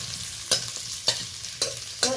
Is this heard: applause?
no